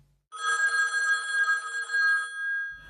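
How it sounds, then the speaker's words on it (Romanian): A landline telephone rings with a single sustained electric bell trill lasting about two seconds, loud and close, in an otherwise quiet room. "Vă sună telefonul!"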